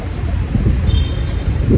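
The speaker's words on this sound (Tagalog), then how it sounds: "makulimlim tsaka mahangin ngayon eh." Strong wind buffets the microphone in a continuous low roar under overcast skies, with no voices.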